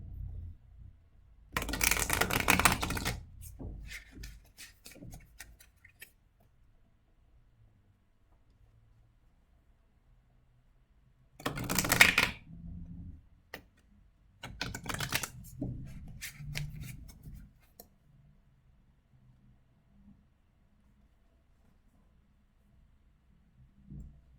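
Tarot cards shuffled by hand in two or three separate bursts of crisp riffling, close and fairly loud, with quiet pauses between them and no talk.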